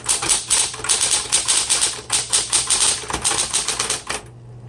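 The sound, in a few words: typing on a 1970s Smith Corona Electra 120 electric typewriter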